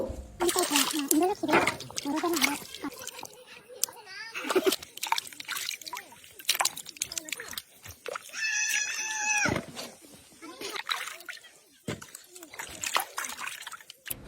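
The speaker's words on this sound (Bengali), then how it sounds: "এখন ক্ষেত থেকে যে মোলাগুলো তুলছি ওগুলো ধুয়ে পরিষ্কার করে নিব" Freshly pulled radishes being washed by hand in water outdoors, with repeated splashing and sloshing bursts throughout, a bleating goat briefly audible in the middle and a voice talking over parts of it.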